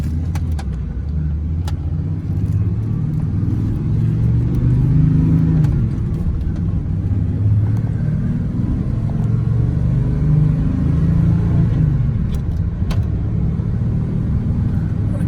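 A 1995 Ford F150 Supercab 4x4 pickup truck engine runs as the truck gets under way, a steady, close, low rumble with slight rises in revs throughout and no talking.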